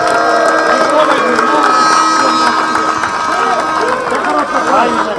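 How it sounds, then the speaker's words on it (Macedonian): A crowd at a small-sided football tournament final cheers and claps for the Žilče team, a loud continuous wash of voices and applause with chatter and calls mixed throughout. "Еден аплауз за екипата на Жилче"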